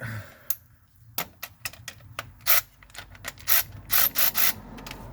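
A ratchet wrench clicks in short bursts while tightening a bolt on the starter of a Chrysler 300, with irregular ratcheting strokes close up and no talking.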